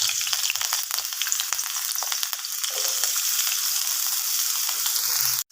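Potato pieces dropped into hot oil with fried cumin seeds, cooking for a drumstick-flower dish, give a loud, close, steady crackling sizzle with rapid spitting pops throughout.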